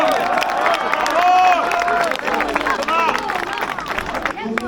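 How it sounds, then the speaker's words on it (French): Crowd at a race prize ceremony clapping for a runner, dense applause with cheering and babble, loud and sustained, while people talk over it. "je voudrais un applaudissement tout particulier pour Thomas"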